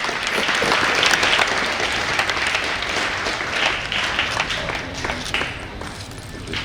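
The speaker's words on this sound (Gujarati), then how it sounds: "આપણે જોરદાર તાળીઓના ગડગડાટથી વધાવતા રહીશું." Loud, sustained applause from a crowd at a primary school new building inauguration ceremony, steady clapping throughout with no break.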